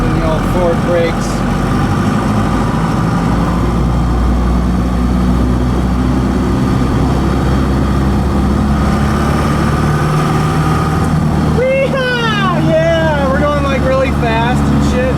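A 4BT Cummins diesel engine swapped into a Ford F150 pickup runs steadily with a deep, low rumble throughout, heard from inside the cab, with people talking over it near the end.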